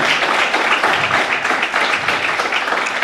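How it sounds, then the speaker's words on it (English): Audience applause closing an entrepreneurship health talk: dense, steady clapping from a crowd, loud and sustained for about three seconds with no voices over it. "Big applause for Tuto."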